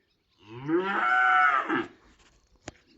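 A calf in a closed farm pen gives a single drawn-out moo of about a second and a half, close and clear against a quiet background, with a short sharp knock just after.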